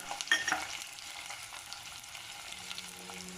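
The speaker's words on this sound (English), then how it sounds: "We're just going to stir this about. Just going to let the onions to soften." Diced onion and green chilli fry gently in a pan while being stirred, giving a soft, steady sizzle with a few light scraping knocks near the start, quiet and alone.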